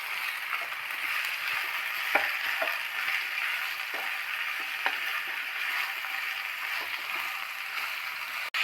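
Chicken gravy masala fries in a pan with a steady, close sizzle and a few sharp stirring clicks and scrapes against the metal, with no talking.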